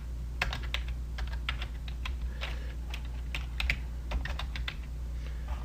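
Fingers typing a Google search on a computer keyboard, with irregular bursts of crisp, close key clicks over a low steady hum and no voices.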